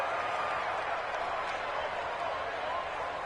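Stadium crowd noise in the Madden NFL 20 football game, a steady, dense roar of cheering and applause that holds at a constant level throughout.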